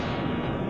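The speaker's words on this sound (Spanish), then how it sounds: "Y le va a meter el cañonazo." A destroyer's cannon fires in World of Warships Legends, a brief, dense, loud boom with heavy low rumble filling the moment.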